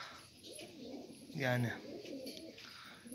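A Turkish tumbler pigeon gives a single close, throaty coo midway, with quiet background noise and a brief spoken word nearby.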